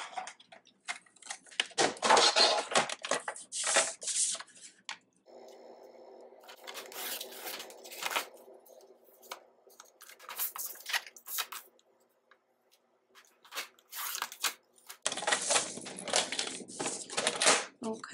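Scissors cutting a paper border for a notepad cover, close crisp snipping in irregular bursts separated by quiet pauses and some handling noise.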